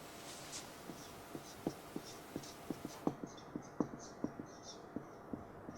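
Pen strokes scratching on paper as a rule is written by hand, a quiet, steady series of short taps and scrapes in an otherwise still room.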